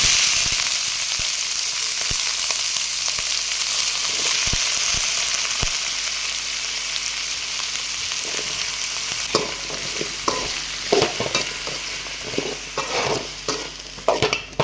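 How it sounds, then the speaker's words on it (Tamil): Chopped raw plantain is stirred into sautéed onions in a hot pan, producing a steady close sizzle with scraping stirs that grow busier toward the end. "வந்து வெங்காயம் வதங்கிருச்சு இப்போ இந்த வெட்டி வச்சுருக்க வாழைக்காயை அதில் போடுவோம்"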